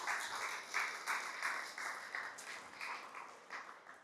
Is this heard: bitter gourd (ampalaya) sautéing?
no